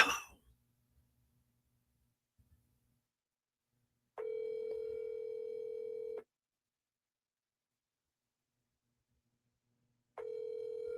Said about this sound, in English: Look, she's letting it ring now.